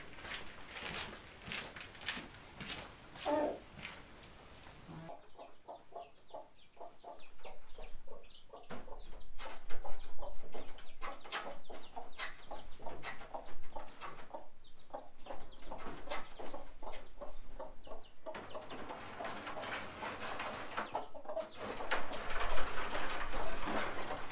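Broody hens in a coop stall, being moved in a dog crate, cluck and squawk over about twenty-four seconds, with close, agitated bursts and shifting handling noise around them.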